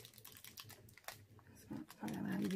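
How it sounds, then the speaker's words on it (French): Small AliExpress packet being torn and opened by hand, crinkly plastic and paper rustles that grow louder and denser toward the end, close up. "je vais quand même en déballer un. Ou du moins, essayer de l'ouvrir un peu"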